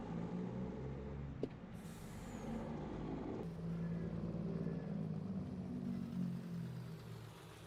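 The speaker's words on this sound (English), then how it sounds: "Well, it looks like the truck just arrived here." Semi truck arriving in the farming game Family Farm 3: a steady low diesel engine rumble with a sharp air-brake hiss near the middle, continuing as a quiet idle.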